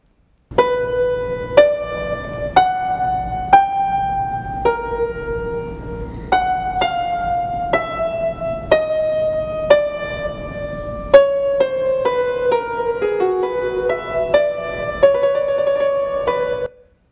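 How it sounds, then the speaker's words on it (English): A single-line theme from Bach's Musical Offering played on a keyboard, with clear separate notes moving stepwise in a slow, steady rhythm, up close and alone with no talking. "Herr Bach, I have a theme of my own that I'd like to play for you"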